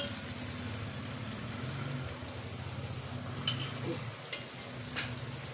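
Yogurt gets stirred into sizzling khara masala keema, a low continuous frying hiss with a few sharp spoon clicks against the pan and quiet scraping strokes.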